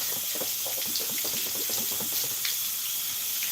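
Steady hissing rush of running water rinsing cleaner off a belt, like a tap flowing onto it, with faint irregular splashing throughout.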